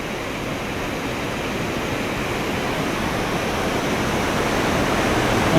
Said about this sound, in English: Got a bit of a waterfall here.